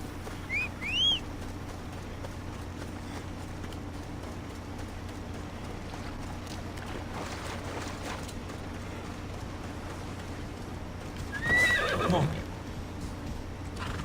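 A horse in Assassin's Creed Odyssey gives two short whinnies, one early and one near the end, with clip-clopping hooves over a steady low ambient hum.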